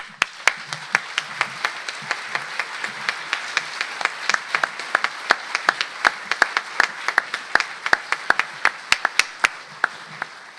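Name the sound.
audience applause at a congress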